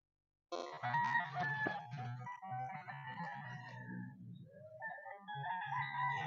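A large rooster on a chicken farm crows in a long, drawn-out call, pausing briefly before crowing again, fairly close and clear against a quiet background.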